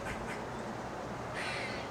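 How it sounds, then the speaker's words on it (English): A bird calling loudly outdoors, a few harsh cawing notes near the start and a longer raspy call near the end over steady background noise. "That bird's going absolutely sick."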